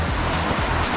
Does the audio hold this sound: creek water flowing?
yes